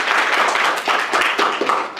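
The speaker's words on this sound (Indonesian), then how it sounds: "Beri aplaus dong buat teman-teman." Students in a classroom applaud together, a dense burst of clapping from many hands that carries steadily for two seconds, close and fairly loud, with no talking over it.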